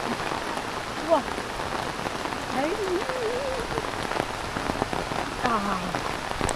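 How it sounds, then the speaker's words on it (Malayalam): Heavy rain falls steadily on surfaces in a constant dense patter, with faint voices and scattered bird calls under it. "നല്ല മഴ, നല്ല സൂപ്പർ മഴ"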